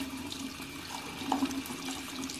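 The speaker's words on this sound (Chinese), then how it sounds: "然后就冲头发了，看看今天染的效果怎么样" Tap water runs steadily and faintly while dyed hair is rinsed with L'Oréal Colovista washout colour, a soft continuous splashing hiss.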